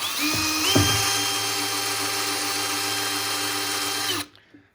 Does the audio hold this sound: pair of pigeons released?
no